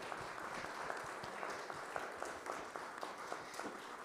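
An audience applauds at the close of a panel discussion, a steady, moderately distant patter of many hands clapping.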